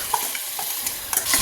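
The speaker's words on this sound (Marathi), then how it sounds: "तांदूळ भाज्यांमध्ये मिक्स करून घेऊन थोडा वेळ परतून घ्या।" Rice and vegetables are stirred and fried in a pressure cooker: a brief soft sizzle with a few light scraping and stirring taps close by.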